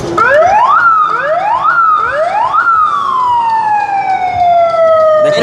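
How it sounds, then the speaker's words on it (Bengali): A police electric motorcycle siren blares loud and close, with three quick rising wails followed by one long tone that slowly falls away. "পুলিশ হর্ন বেজে উঠলো"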